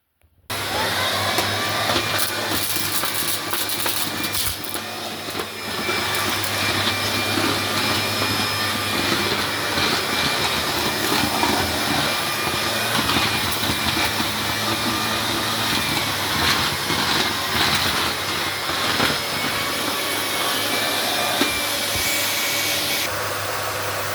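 A vacuum cleaner runs continuously indoors at home, its loud steady whine and motor drone carrying on with slight shifts in pitch as it is moved about, briefly easing near the start before resuming.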